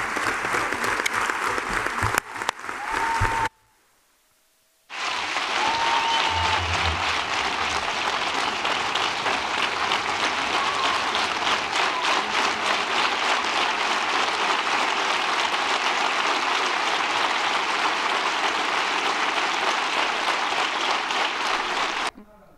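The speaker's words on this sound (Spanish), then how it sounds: "Pues un millar de personas han visto ahí aplaudiendo" Sustained applause from about a thousand people filling a hotel auditorium after a regional party congress vote, dense and steady for nearly twenty seconds after a brief cut to silence, with some voices mixed in.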